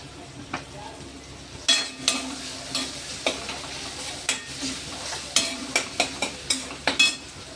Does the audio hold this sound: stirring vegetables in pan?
yes